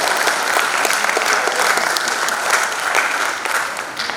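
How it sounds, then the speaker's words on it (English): Loud, dense applause from the gentlemen of a reunion audience for the ladies, a full continuous roar of many hands clapping close by that eases slightly at the very end. "So a big round of applause from the gents for the ladies"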